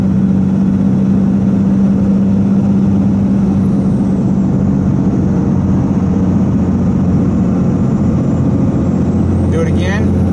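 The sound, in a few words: Dodge Ram 2500 Cummins turbo diesel engine at wide open throttle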